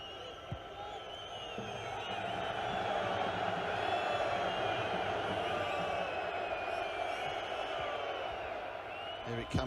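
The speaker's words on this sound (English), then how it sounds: "the crowd really getting into this" A large football stadium crowd at the 2017 Asian Champions League final between Urawa Red Diamonds and Al Hilal roars and chants continuously, a broad sustained swell, with a commentator talking over it.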